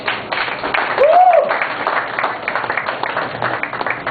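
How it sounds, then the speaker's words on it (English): Audience applause and cheering at a poetry night in a nightclub, loud clapping filling the room, with a whoop rising above the crowd early on. "Let's give him a round of applause."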